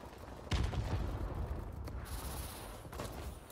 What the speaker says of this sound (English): I hear somebody shooting over here.